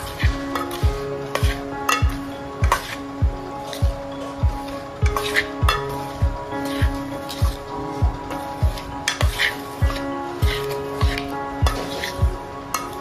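Boiled chickpeas stirred in a frying pan with a spoon, a steady rhythm of sharp metal scrapes and taps against the pan, close and clear, over a light sizzle with no talking.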